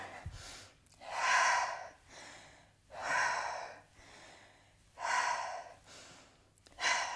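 Deep breathing during a handstand exercise: four strong, evenly spaced breaths, each a loud airy rush lasting about a second, alternating with quieter pauses, close to the microphone.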